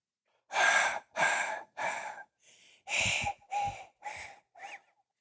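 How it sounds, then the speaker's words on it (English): Heavy, ragged breaths in an audio-drama horror tale, eight loud gasping inhales and exhales in an uneven rhythm, close and alone with no talk. "Listen, enough with the breathing."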